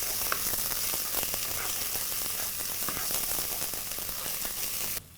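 Ginger garlic paste fries in a pan with a loud, dense, continuous sizzle and crackle, close and steady throughout, cutting off sharply at the end.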